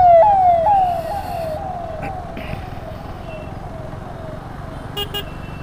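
An ambulance siren wails loudly on the road during a motorcycle ride, its repeated falling sweeps fading as it passes and recedes, over steady traffic rumble and engine noise.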